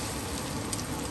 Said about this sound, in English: Now add green chili paste and saute it in the onions.